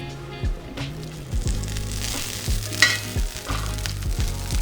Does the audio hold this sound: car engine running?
no